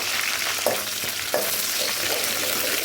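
Curry leaves, cumin, fennel and chilies sizzle loudly in hot oil for a fish curry, a constant close hiss punctuated by a couple of sharp crackling spits.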